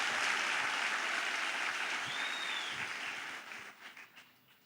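Audience applause in a podcast studio, a broad steady wash of clapping that gradually thins and fades out toward the end.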